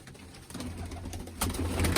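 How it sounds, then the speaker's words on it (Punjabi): Pigeons coo softly at an old house, their low, rolling calls repeating over a steady background hiss and growing a little louder toward the end. "ਸਾਰੇ ਮਿੱਤਰੋ ਇਧਰ ਕਬੂਤਰ ਹੀ ਆ"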